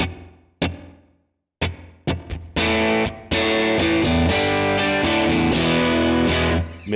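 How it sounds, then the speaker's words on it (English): An electric guitar on a clean tone through a light spring reverb on a Sonicake Matribox II modeler: a few separate plucked notes ring and decay, then strummed chords sustain loudly with a short reverb tail. "I just have a spring reverb on, okay, and I don't have a lot of it on, so here you can hear it"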